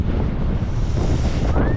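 Strong, cool wind roars and buffets the microphone on a hilltop summit in a steady, close rush of noise.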